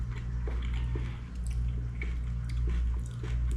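Homemade tamarind candy, a small sugar-coated gumdrop-like sweet, being chewed close up, with soft wet squishing and biting sounds repeating over a steady low background hum.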